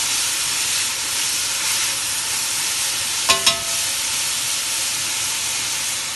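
Vegetables brown in a hot pan for a soup of cabbage and turnips, giving a steady loud sizzle and hiss, with two short knocks of a utensil against the pan partway through.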